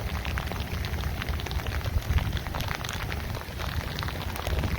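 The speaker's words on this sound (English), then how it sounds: "It's raining" Rain, mixed with some hail, falls steadily outdoors at the Fort Hood outdoor military museum and memorial, a dense continuous patter with no voices.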